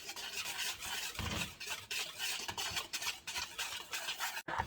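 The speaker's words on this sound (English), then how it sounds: "Now we're going to whisk this together." Eggs seasoned with Lawry's and pepper are whisked in a bowl with a steady, close scraping and rubbing rhythm that runs throughout, no talking over it.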